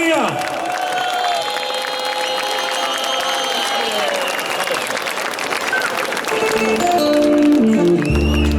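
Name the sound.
audience applause for the firefighters and guests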